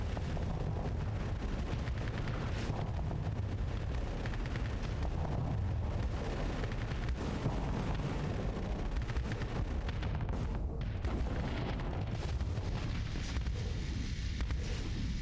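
A weapon fires in the Starsector space game with heavy, continuous booming blasts and dense rumbling explosions that stay loud and thick throughout, with no pause and no voices.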